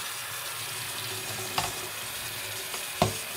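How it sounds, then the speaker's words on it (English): Hand rinsing of a flood-damaged Amiga 500 circuit board with water: a steady, hissing stream splashing close by, broken by a couple of brief louder knocks or splashes. "I don't have a dishwasher, so I'm using the manual dishwashing method"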